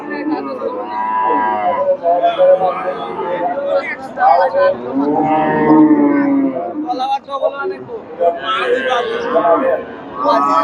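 Jersey dairy cow giving eight litres of milk, at the Chandaikona cattle market, lowing amid a steady hubbub of crowd chatter and nearby talk.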